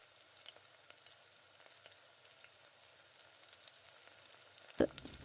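Mustard seeds fry in oil in a pan, a faint steady sizzle with light scattered ticks and a single sharp louder knock near the end, no voices.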